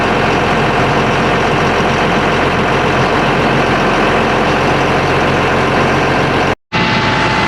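A loud, steady boat engine drones continuously at close range with a heavy low rumble through weed-choked backwaters in Kuttanad, Alappuzha, briefly cutting out for a moment near the end.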